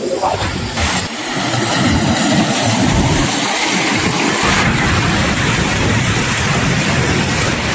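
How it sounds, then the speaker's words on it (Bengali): Strong sea waves crashing against boulders at Digha, a loud, constant close roar of surf and wind that barely lets up. "এখানে মারাত্মক এই জোরে জোরে ঢেউটা বোল্ডারে যখন লাগছে"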